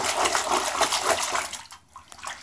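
Orange-tinted bath water swished by hand to whip up bubbles, a steady splashing and sloshing up close that fades into a quieter lull before a last few swirls.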